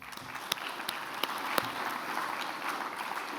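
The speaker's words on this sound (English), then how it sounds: "I'll ask for a round of applause" A round of applause at the NTCA 2023 conference closing address, an even, continuous spread of clapping from a sizeable audience, fairly distant and soft, with a few sharper individual claps standing out.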